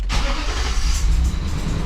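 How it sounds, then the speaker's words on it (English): A car engine cranks and catches, then settles into a steady low idle rumble, fairly close and alone with no talking. "So I'm gonna start it up, turn the AC on"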